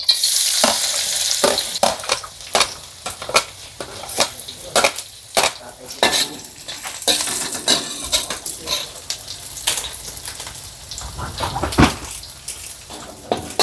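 Garlic frying in a pan, a steady sizzle with repeated stirring and utensil scrapes against the pan, close and fairly loud throughout.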